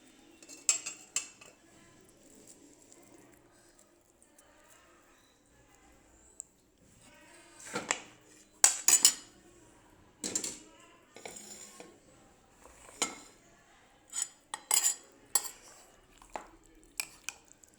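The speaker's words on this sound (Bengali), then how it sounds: "আর এখন আমি প্লেটে ভাত নিয়ে নিচ্ছি খাওয়ার জন্য।" Metal utensils scrape and clink against plates as rice is served, with sporadic sharp clatters and louder bursts of dish knocking spread through a quiet kitchen, no talking.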